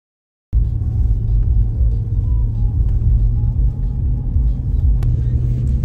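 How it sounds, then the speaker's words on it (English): Jeep on a forest road, a steady loud low engine rumble and road noise running throughout after a brief silent start, with no talk. "going for a little drive in his sweet pimped out Jeep"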